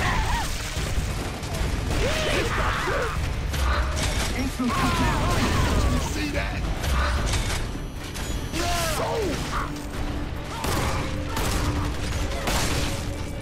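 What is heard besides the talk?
semi-automatic sniper rifle shots in Gears of War Judgment video game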